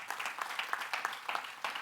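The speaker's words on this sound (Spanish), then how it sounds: "Alguien le da un aplauso al Señor esta noche." Applause from a church congregation during a Spanish-language sermon, a steady wash of many hands clapping with uneven bursts, moderately distant and fairly faint.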